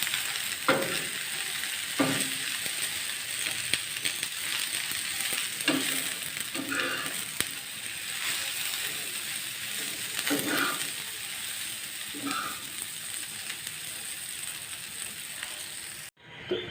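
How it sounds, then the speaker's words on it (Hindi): Okra frying with onions and masala on low heat, a steady sizzle running throughout with periodic stirring scrapes and clinks every couple of seconds, no voices present. "फिर भिंडियों को मैं अच्छे से हल्की आंच पर प्याज और इस मसाले के साथ फ्राई कर लूँगी"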